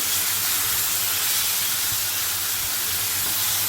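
Kochu greens stirred into hot oil in a pan give a steady, loud, broadband sizzle and hiss that runs unbroken throughout, with no one talking.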